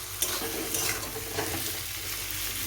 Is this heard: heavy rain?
no